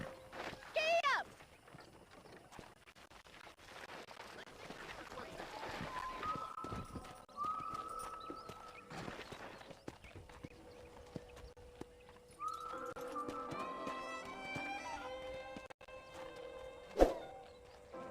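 Horse hooves clip-clopping at a run with a whinny in the Western game Red Dead Redemption, fairly faint and mixed with other game sounds and a character's speech.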